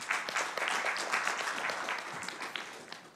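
Steady audience applause at an automotive industry forum, a dense wash of many hands clapping evenly throughout, moderately loud with no talking over it.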